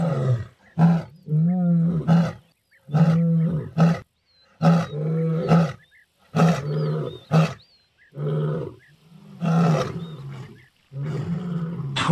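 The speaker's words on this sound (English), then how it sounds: "The lion has the loudest roar of any big cat." A lion's roar from a Roblox big-cat game, delivered as a series of loud, deep, drawn-out calls with grunting pulses and short pauses between them, heard alone without talk.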